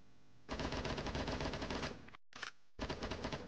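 The player's gun in a pixel-art roguelike action game fires rapid, evenly spaced shots in a loud burst, cuts out briefly, gives a short second burst, then resumes, with no talking.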